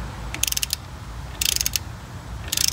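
Ratchet wrench clicking in quick bursts while hand tightening the wheel nuts of a 2011 Kia Soul in a cross pattern during a rear brake job, three separate clusters of rapid sharp clicks.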